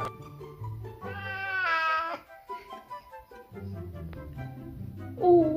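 An Oriental cat meows indoors: one long, drawn-out plaintive meow near the start, then a shorter rising meow at the end, close and moderately loud over quiet room noise.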